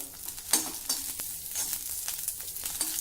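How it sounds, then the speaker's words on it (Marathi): Green chillies frying in a little oil, crackling and sizzling up close with frequent sharp spatters and popping bursts against a softer steady fizz, no voices. "थोडं तेल घालूया आणि ह्या हिरव्या मिरची व्यवस्थित भाजून घेऊ"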